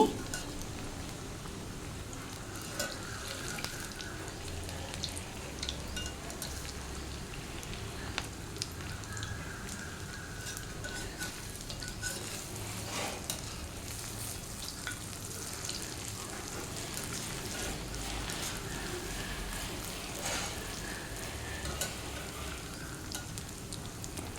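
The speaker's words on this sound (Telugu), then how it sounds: "గోల్డెన్ బ్రౌన్ కలర్ వచ్చే వరకు వేయించాలి వీటిని" Bonda balls deep-frying in hot oil give a steady, quiet sizzle with soft crackling and bubbling that runs the whole time, now and then broken by faint clinks as the pieces are stirred.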